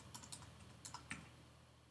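Computer keyboard typing while finishing a lesson exercise in UEB Online braille training software: a short burst of several crisp key clicks, fairly faint over a steady background hum.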